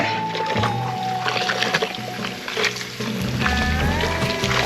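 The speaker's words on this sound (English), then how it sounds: "Rinse it into clear water." A towel rinsed in a bucket of clear water during car detailing, with close sloshing, gurgling and dripping that comes in short bursts and splashes.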